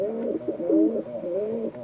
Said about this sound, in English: He's a nice cockbird.